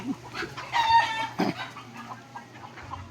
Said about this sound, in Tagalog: Manok tagawas.